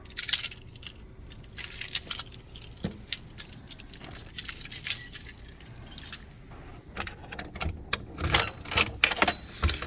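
A bunch of keys jangles and clinks close by, in repeated bright shaking bursts spread over about ten seconds with short pauses, against faint room noise and no talking.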